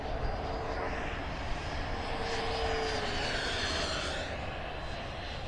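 A Taft Hobby Valkyrie 90mm electric ducted fan RC jet roars past overhead with a steady, smooth whooshing whine that swells and fades slightly as it flies, with no voices.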